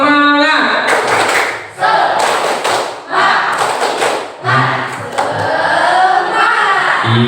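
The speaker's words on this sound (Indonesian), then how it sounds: "Iya, tepuk tangan semuanya dulu." A school class of junior high students claps together in loud, rhythmic group bursts, a few seconds of sharp thudding claps broken by short pauses, with voices mixed in.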